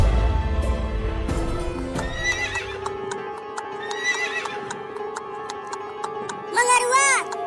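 Horses neigh and whinny while hooves clip-clop in a cartoon tale of bandits readying their mounts for a night raid on a village. A loud, shrill whinny rises near the end over steady hoof taps.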